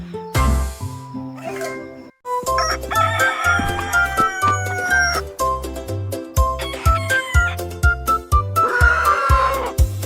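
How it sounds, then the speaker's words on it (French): A rooster crows loudly and close, a long ringing call followed by repeated clucks and further crowing phrases over a steady rhythmic backing. "Cocorico s'est réveillé le premier."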